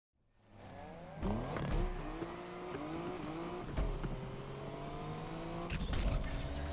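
A car in Need for Speed Unbound revs hard and pulls away with its tires squealing. The engine climbs and shifts through gears in a loud, sustained run, with another surge of acceleration near the end.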